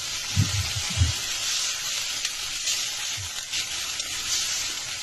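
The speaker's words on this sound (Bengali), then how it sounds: "মশলাটা যাতে পুড়ে না যায় এই জন্য একটু পানি দিয়ে দিলাম।" Water added to ground spices, coriander powder and ginger-garlic paste frying in a pan: a steady close hiss and sizzle with a few soft low knocks from the pan early on, no talk.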